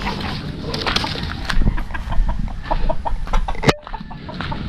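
Chickens at a Filipino game farm cluck and call up close over a dense, busy background with scattered sharp knocks.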